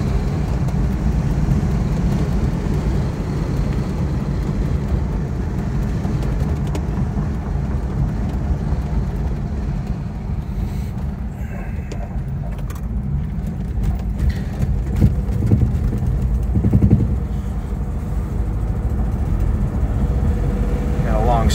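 A 1962 Bentley S2 Continental Flying Spur with HJ Mulliner coachwork, driving along a straightaway and picking up speed, its engine and road noise a steady low rumble with a brief rise, and someone speaking over it.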